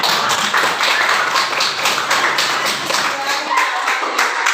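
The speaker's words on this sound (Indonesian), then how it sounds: "Sudah, tepuk tangan." Steady, rapid hand clapping from a group fills the clip, loud and continuous, with a faint bit of murmur beneath it.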